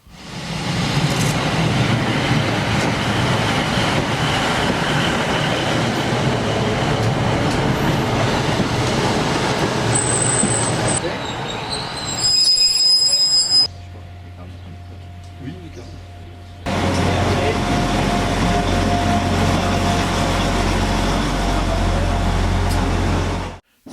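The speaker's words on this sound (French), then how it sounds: "C'est avec un classe 150 que nous allons rejoindre Chester." A Class 150 diesel train rumbles loudly with steady engine drone and rail noise, briefly shifting to a quieter idling tone with beeps before the roar returns.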